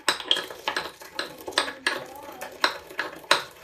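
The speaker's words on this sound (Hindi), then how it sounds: "ये हमारा जो मसाला है इसको हल्का सा दरदरा हम कूटेंगे।" Roasted cumin and fennel seeds are coarsely pounded, with a regular series of sharp, close metallic knocks repeating about twice a second, alone and fairly loud.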